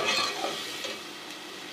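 Ground cumin and coriander powder roast in a pan with a soft, steady sizzle and faint stirring scrapes. The sound is close but quiet, and no one speaks over it.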